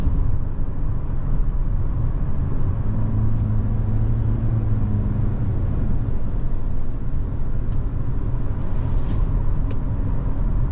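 A 2023 Toyota Corolla Cross XSE Hybrid cruises on the highway, giving a steady cabin drone of road and tire roar with low engine hum, constant and unbroken, with no talking.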